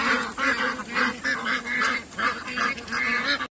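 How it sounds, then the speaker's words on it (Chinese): A flock of ducks near a stretch of water in rural China quacks and honks in repeated overlapping bursts, fairly close and continuous, with no voices. "你看那边还有一群鸭子"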